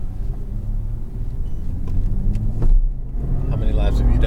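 A Jaguar XJR575 running as a ring taxi on a lap, its engine a deep, steady rumble from inside the cabin that swells louder toward the end, with faint voices underneath.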